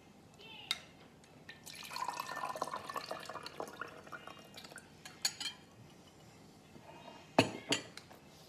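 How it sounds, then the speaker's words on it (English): Tap water splashes and drips as it is poured out of a bowl of soaking spinach, with light clinks of ceramic or metal and a sharp knock near the end. "and now I'm going to tip out the tap water."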